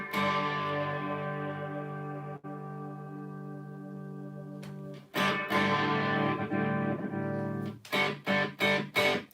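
Gritty, distorted electric guitar rings out through a British 60 amp, first a long sustained chord, then a series of choppy, punchy strummed hits.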